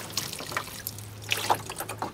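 Water trickles and splashes as it is poured by hand over lettuce in a hydroponic tray, a soft close dribble with small drips and no talking.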